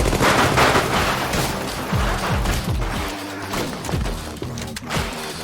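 Dense, loud bursts of gunfire and explosions from the action film The Raid rattle continuously, layered with booming impacts and a dramatic soundtrack-like din, no pauses throughout.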